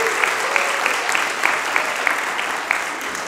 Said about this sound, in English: a round of applause for all of our fifth grade participants tonight